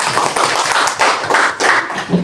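Students in a classroom clap for a classmate's correct answer, a brisk, close burst of quick, uneven hand claps lasting about two seconds.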